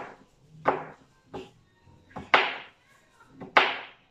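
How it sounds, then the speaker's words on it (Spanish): Garlic chopped with a knife for garlic tea makes five sharp, close knife thuds on a board at uneven intervals, loud and clear with nobody talking. "Vamos a preparar un té de ajo, vamos a picarlo."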